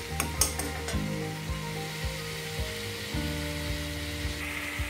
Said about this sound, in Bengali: আর গরম মশলা দিয়ে দিলাম। ভালো করে নাড়িয়ে দেবো।